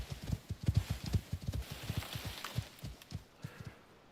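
Horse hooves clip-clop steadily in the video game Icarus, a close, rhythmic trot of sharp thuds that slows and thins out toward the end.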